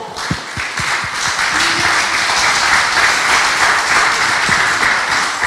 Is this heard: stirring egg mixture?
no